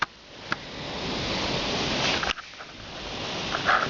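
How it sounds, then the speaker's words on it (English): Heavy storm rain in Oklahoma is driven by strong wind, a dense, steady roar of rushing noise with a few brief gusts and buffets. "it's like blowing like crazy."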